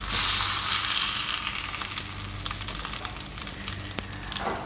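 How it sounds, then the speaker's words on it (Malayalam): Karimeen (pearl spot) fish frying in a pan, Kerala-style with a spiced masala coating, giving a steady close hiss and crackle of sizzling oil that fades slightly partway through, with occasional small pops and no talk. "അങ്ങനെ അടുത്ത സൈഡും ഫ്രൈ ആക്കി ഇട്ടിട്ടുണ്ട്."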